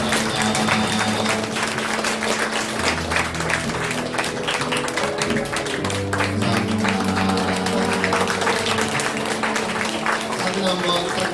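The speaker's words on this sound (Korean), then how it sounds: "뜨거운 박수로 하나님께 영광 돌려주시기 바랍니다" A church congregation claps together at an anniversary service, dense, steady applause filling the room throughout, with murmured voices and a faint musical tone underneath.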